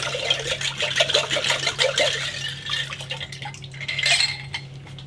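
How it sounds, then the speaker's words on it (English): Jugs partly filled with water shaken over a sink, producing rhythmic sloshing and plastic knocks in quick bursts over a low steady hum, with a brief louder splash near the end. "Get them in water. Give them a good shake over the sink."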